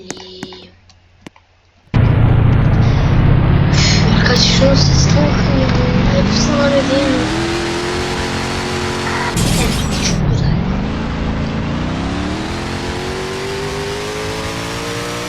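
A car in the game Dealership Simulator, its engine roaring loud and revving up and down with rising pitch sweeps after a quiet opening, with a brief burst of squeal midway.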